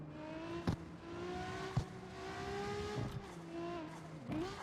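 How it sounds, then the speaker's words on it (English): Nissan R35 engine in the CarX Street racing game, droning steadily at high revs with brief shifts and bumps, sustained throughout at moderate level behind faint talk. "I say the R35 engine just sounds like an elephant from hell."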